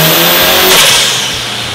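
Mitsubishi Lancer stroker engine on a dyno power run, a loud high rev climbing to a peak then falling off as the throttle lifts, close and dominant.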